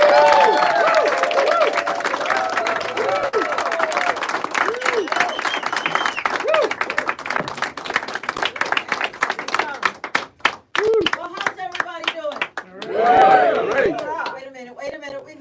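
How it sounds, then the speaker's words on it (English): A round of applause and clapping from a crowd at a political meet-and-greet in an RNC headquarters office, steady at first with voices and chatter mixed in, breaking off near the end as people start talking and cheering. "Let's give her a round of applause"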